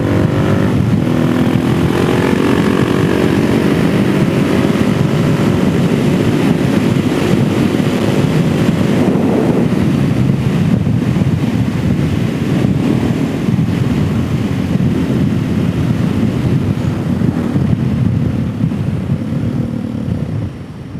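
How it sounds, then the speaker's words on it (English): Strong steady wind buffeting a helmet-mounted camera on a DRZ 470SM motorcycle ride, a loud unbroken rush with a low engine drone beneath, continuous for the whole stretch. "The wind moved me a little bit to the side."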